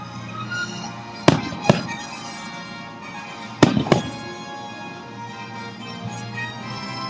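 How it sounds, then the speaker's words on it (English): Fireworks bursting during a nighttime show at Epcot, Walt Disney World: two pairs of sharp, loud explosive bangs over a steady background of crowd and show soundtrack. "We got fireworks."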